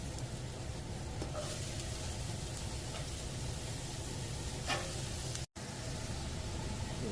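Celery and carrot sizzle with onions in a hot pan, a faint, steady frying hiss with a few brief clatters of stirring and a momentary dropout near the end.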